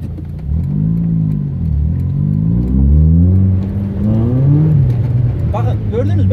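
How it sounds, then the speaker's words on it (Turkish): A car's engine revs up and down as the car slides on a snowy road during a winter driving lesson, a loud close drone rising and falling in pitch, with someone speaking over it. "Bakın gördünüz, ben gaza bastım, geri çektim."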